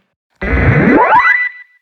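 A single sustained otamatone tone, electronic-sounding and warbly, loud and close, its pitch sweeping upward as an EQ filter glides through, lasting about a second.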